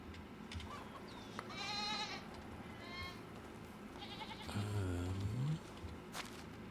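Goats and sheep bleat in the farm life game Medieval Dynasty, with several separate wavering calls, one long low bleat standing out, all over a steady bed of background farm ambience.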